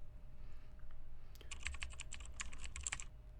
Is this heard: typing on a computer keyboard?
yes